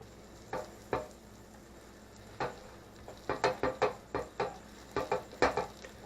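Garlic sizzles quietly in a red copper pot under a soft, steady frying hiss, broken by a series of sharp clinks and scrapes from stirring against the pot, with no voices.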